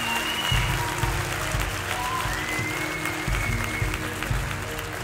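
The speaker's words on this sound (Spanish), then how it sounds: "¡Un fuerte aplauso!" A studio audience at a Got Talent semifinal applauds after an underwater escape artist's act. The applause is a continuous wash of clapping under crowd noise, with a deep rumble and occasional whistles, steady throughout.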